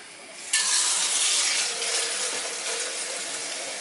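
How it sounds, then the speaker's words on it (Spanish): Water pours from a jug into a cooking pot for fricandó, starting abruptly after a brief pause and then running as a steady, loud splashing stream that continues to the end. "echarle el agua"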